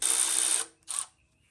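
A power tool whirs loudly on a bolt of a Toyota 3.0 V6 3VZ-E engine during valve cover removal, for about half a second, stops, then gives a second short burst, close up with nothing else around it.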